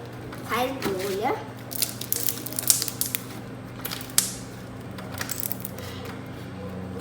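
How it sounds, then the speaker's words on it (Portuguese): Elmer's slime is worked by hand, giving irregular sharp clicks and small pops scattered through the handling, with a brief voice-like squeak near the start. "Tá muito boa, faz muito clique."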